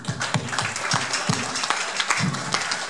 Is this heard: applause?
yes